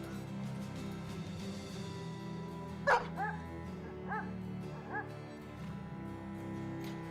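War dogs in Battle Brothers bark a few times over a low, steady game hum, with one sharp bark followed by three softer yips spaced about a second apart.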